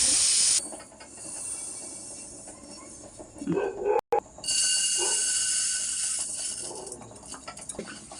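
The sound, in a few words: sesame seeds dry roasting and crackling in a pan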